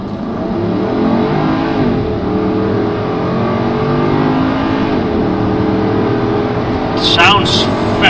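A 500-horsepower Porsche Cayenne Turbo 958 accelerates hard in automatic mode, its loud engine note climbing through the gears up close and in a rising, continuous roar, with a faint voice near the end.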